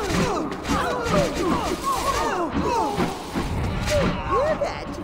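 Video game Overlord Fellowship of Evil, a loot goblin's sound amid busy combat, with dense chirps, warbles and impacts layered together at steady loudness.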